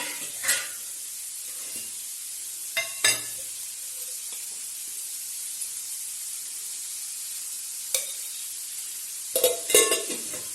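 Onion, ginger and cashews cooking in ghee for paneer butter masala give off a steady sizzling hiss, broken by several louder scrapes and stirs of a spoon against the pan.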